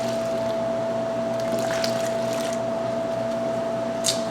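Water poured into a bowl of spelt bread dough mix with toasted grains makes a soft, continuous trickle and splash close by, over a steady background hum, with a brief clink near the end.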